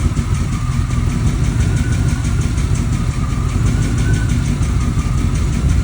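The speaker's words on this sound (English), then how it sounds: "I'm gonna let it idle. We'll wait for it to get warm and we'll retry it." A Corvette engine that will not restart when hot idles steadily on its own, a loud, even rumble held close by with no talk.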